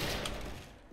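A gold PSG-1 sniper rifle firing in the Special Force shooter game, one sharp loud report at the start decaying over a second, with a faint click at the very end.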